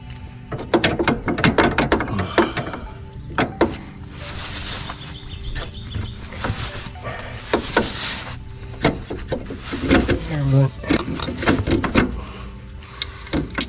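Metal clicks and ratcheting as a nut is fastened onto a bolt on a Grasshopper zero-turn mower, with steady close mechanical rattling and scraping and birds faintly outdoors.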